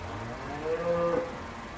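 A single cow moos in the show ring at a county fair beef show, a faint, drawn-out low call over quiet arena background.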